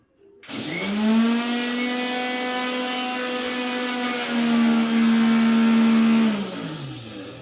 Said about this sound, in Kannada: ಇವಾಗ ಎಳ್ಳು ಮಿಕ್ಸಿಗೆ ಹಾಕಿ ಸ್ವಲ್ಪ ಎಳ್ಳುಂಡೆ ಕಟ್ಬಿಡೋಣ.